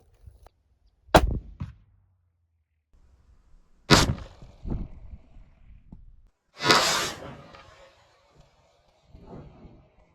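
Gunshots fired at an explosive target outdoors: a few sharp, loud cracks spaced seconds apart, each followed by brief echo and light rustling in between.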